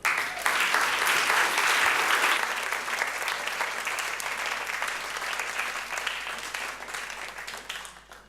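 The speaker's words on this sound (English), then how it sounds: "Please welcome with a big applause, Paul Yates." Loud, dense audience applause at an evening show as a speaker is welcomed to the stage, sustained for about eight seconds and tapering slightly toward the end.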